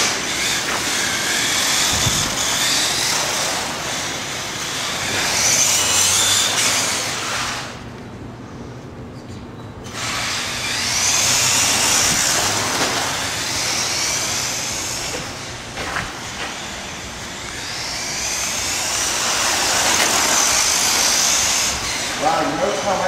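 A Traxxas Revo VXL radio-controlled truck rumbles and rattles over a rough track section, its motor noise rising and falling across the stretch, with people talking over it.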